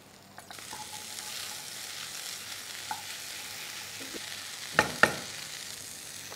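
Carrots, mushrooms and broccoli tossed into a hot pan, a steady soft sizzle with a few sharp clinks of a utensil stirring near the end, fairly quiet and close.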